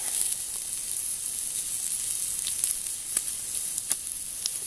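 Bologna slices frying in a hot pan over a wood fire give a steady bright sizzle and hiss, with small sharp pops and crackles scattered throughout.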